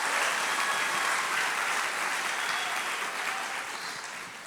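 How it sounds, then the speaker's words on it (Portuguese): Church congregation at a conference applauding in a dense, continuous wash of clapping that slowly eases off toward the end. "dá uma salva de palmas"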